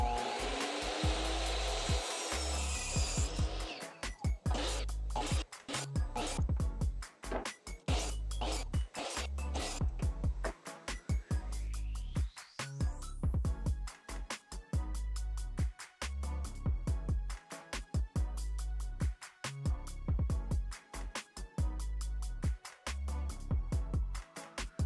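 A rapid series of sharp saw cuts and rasping strokes on wood pieces for a washer and dryer pedestal frame, arriving in quick repeated bursts with brief pauses between them, set against a workshop background.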